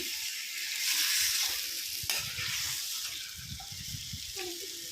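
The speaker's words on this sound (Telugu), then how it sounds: "ఇప్పుడు ఆనియన్స్ పచ్చిమిర్చి అయితే బాగా వేగాయి కదా ఆ వేగిన దానిలో అయితే చికెన్ అయితే వేసుకొని" Chicken hits hot oil with already-browned onions and green chillies and sizzles loudly and steadily up close, with a few sharp spatula scrapes and clinks in the pan.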